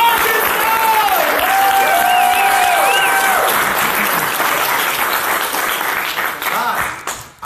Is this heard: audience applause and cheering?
yes